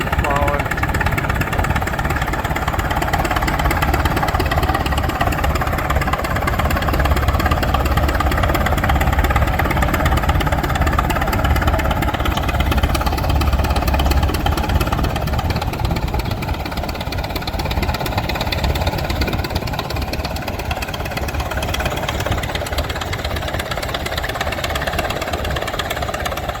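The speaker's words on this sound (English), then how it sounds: "There's a dozer over there playing around." A bulldozer engine rumbles and idles steadily at an old engine show, a continuous mid-pitched drone with knocking texture throughout, while people talk nearby over it.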